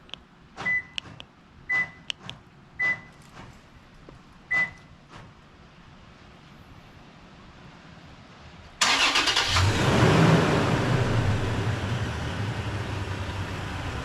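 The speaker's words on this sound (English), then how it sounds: "Once the vehicle is remote started, you give it about 3 seconds." A 2016-2023 Toyota Tacoma is remote started with a Takeover plug-and-play remote starter: a few short chirps and clicks, a pause, then the engine abruptly cranks and settles into a loud, steady idle nearby.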